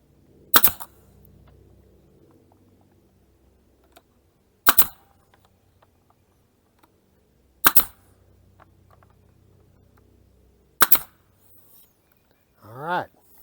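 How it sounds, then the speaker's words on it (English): A nail gun fires nails into an interior door being repaired with adhesive: four sharp, loud cracks spaced a few seconds apart, with faint handling noises between them. "we're going to go ahead and shoot some nails in it anyway, just to hold it in position while the adhesive sets up"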